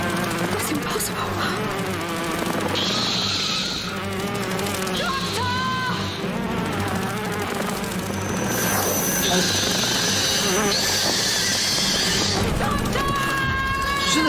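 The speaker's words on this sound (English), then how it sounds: "It's a giant wasp." Giant wasp in a Doctor Who episode, a loud droning buzz that swells and fades in several passes over a dense mix of music and effects, with voices talking and a brief scream in the scene.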